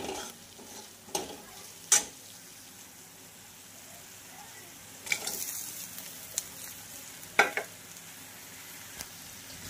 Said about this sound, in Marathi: कारले फ्राय व्हायला मला 5 ते 6 मिनिटे लागले